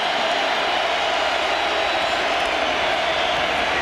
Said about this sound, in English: The crowd here, Norman, urging the Sooners.